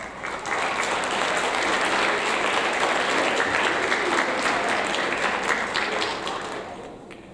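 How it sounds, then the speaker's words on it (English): Audience applause at a 7th grade school awards ceremony, a steady, dense round of clapping that holds loud for several seconds before thinning out toward the end. "Let's give her a round of applause."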